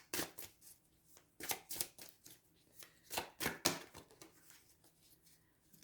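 Tarot cards are shuffled by hand in a quiet room, with repeated crisp riffling bursts and soft slaps in an irregular rhythm, close and fairly faint.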